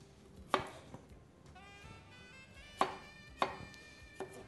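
Red radishes are sliced with a knife in a home kitchen, making a few sparse, quiet cuts against a board at irregular intervals, close but faint, with faint tonal ringing in the background between strokes.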